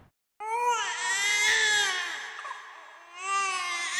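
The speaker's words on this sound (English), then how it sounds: "A child crying." A child cries alone in long, wavering sobbing wails that rise, dip into a brief break, then start again, close and clear with nothing else underneath.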